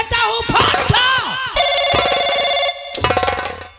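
A telephone rings with bright electronic tones in bursts, loud and close, while agitated voices shout over and between the rings.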